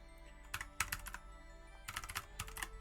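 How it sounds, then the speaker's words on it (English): Fast bursts of clicky keystrokes on a computer keyboard during a Pokémon naming quiz, quick clusters of taps separated by short pauses, close and fairly quiet. "my typing is horrendous today"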